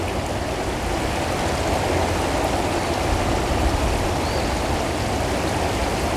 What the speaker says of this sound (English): And the water is running,